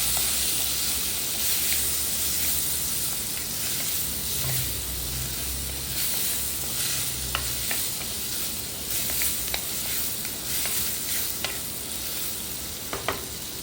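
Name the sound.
onions and tomatoes sizzling while being sautéed in a pan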